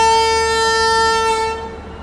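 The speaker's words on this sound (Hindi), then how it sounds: "फाइनली हम लोग 8 बजे निकल चुके हैं क्रांतिवीर संगोली रायना, यानी अपने बेंगलुरु रेलवे स्टेशन से" A train horn sounds on departure from Bengaluru railway station, a loud sustained tonal blast with no talk over it, holding steady and then fading away near the end.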